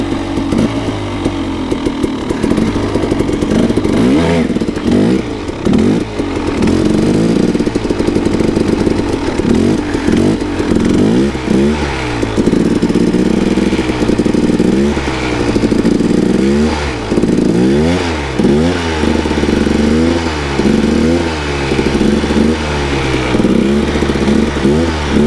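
A KTM 300 dirt bike engine revs hard and continuously through repeated wheelies, rising and falling in pitch with each throttle burst, loud and close throughout.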